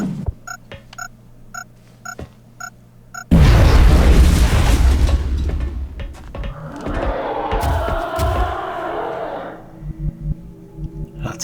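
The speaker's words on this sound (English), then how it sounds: "Okay then, how about a grenade?" A grenade explodes in the turn-based strategy game X-Com: Enemy Unknown, preceded by soft interface beeps, then a sudden loud deep boom with rumbling debris that decays over several seconds into quieter game sounds.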